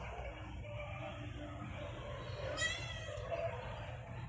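A cat meows once, close and fairly clear, over a steady low background rumble.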